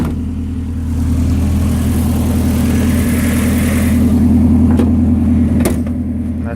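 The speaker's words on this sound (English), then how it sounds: "Let's take this thing out for a drive so you guys can see" A Datsun 200SX S110 engine runs steadily while driving, a low droning hum that holds constant and close throughout, with a slight rise in effort near the end and no talking.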